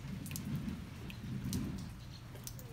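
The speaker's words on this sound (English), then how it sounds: "It's drizzling." Light drizzle falling outdoors in a garden, a soft steady hiss of fine rain with scattered faint drops, quiet and continuous with no talking.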